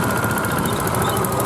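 Ford tractor engine, the model that succeeded the Ford Major from 1964, running steadily at a ploughing match, a continuous dense mechanical drone with no speech over it.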